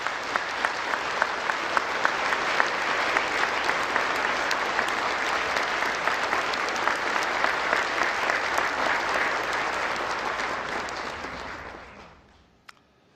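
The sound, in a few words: audience applause welcoming President Yoon Suk-yeol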